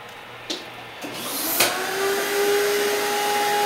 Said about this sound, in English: You see a little bit of vacuuming going on.